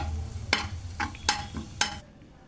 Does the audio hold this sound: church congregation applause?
no